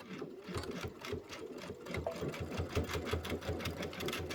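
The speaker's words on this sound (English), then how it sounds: "I'm going to go ahead and sew this down" A sewing machine stitches down fabric gathers on a cucumber eye mask project, fitted with a 1/4 inch foot, running in a steady, close, continuous rhythmic whir with no voices.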